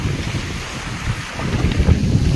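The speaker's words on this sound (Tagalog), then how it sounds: "Ang lakas ng habagat." Strong southwest monsoon wind buffeting the microphone at sea, with big waves surging and splashing below, a loud, gusty roar that rises and falls unevenly.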